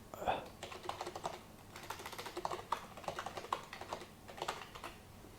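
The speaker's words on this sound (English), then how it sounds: "you just type in whatever you want" Rapid typing on a computer keyboard, close and fairly quiet, with bursts of clicking keystrokes separated by short pauses and no talk.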